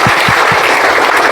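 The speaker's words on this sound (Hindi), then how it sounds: "ताली बजा सभी लोग।" Schoolchildren in a classroom clap together in a loud, dense burst of applause that fills the short moment, with a few stronger claps standing out at the start.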